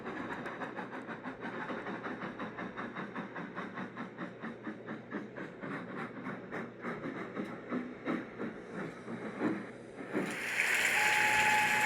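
Train running on rails from a coal mine, a steady clickety-clack of wheels passing over rail joints in an even repeating rhythm, ending in a louder hiss of steam or brakes.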